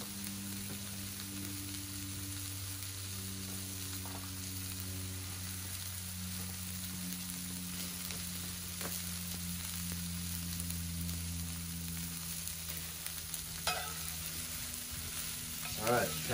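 Burger patties fry in butter in a pan, giving a steady close sizzle and crackle throughout with a low hum underneath and a few brief scrapes and clicks near the end.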